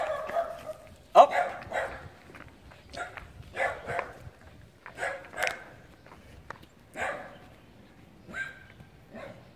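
A dog barks and yips in scattered bursts outdoors, fairly faint, mixed with a person talking.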